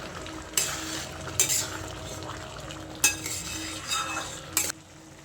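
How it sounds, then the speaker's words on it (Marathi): A spoon stirs carrot halwa in a pan after dry fruits and cardamom powder are added. Steady scraping strokes with a few sharp metallic clinks against the pan sound over a continuous low simmering sizzle, close and moderately loud. "ड्रायफ्रूट्स टाकूया आणि ही विलायची पावडर टाकूया आणि याला हलवून घेऊया"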